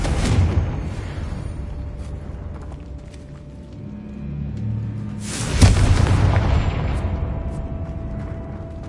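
Two booming Confringo explosive spell blasts in the Hogwarts Legacy video game, one at the start and a louder one midway, each with a broad crash that rumbles and decays slowly, with quieter rumbling between them.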